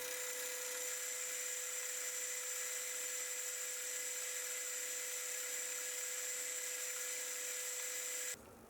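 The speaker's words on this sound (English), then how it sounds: "I'll then clean up the hole with a boring bar." A lathe boring bar cleans up a bored hole in a metal collet chuck blank, giving a steady, high-pitched whining hum that holds constant for about eight seconds and then drops off abruptly near the end.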